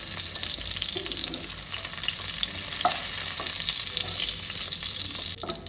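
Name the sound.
pointed gourd (potol) frying in oil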